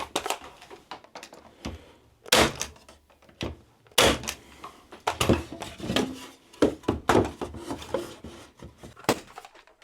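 Nail gun firing nails into wooden apple crate slats, a series of sharp, loud percussive bangs in irregular bursts, up close with woody knocks and handling between shots.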